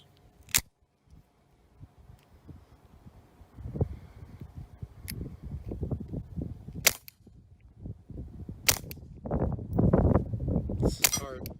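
Suppressed shots from a Ruger Mark 4 22/45 Tactical pistol firing .22 rounds, a handful of sharp, isolated cracks spaced irregularly over low background noise and rustling handling sounds.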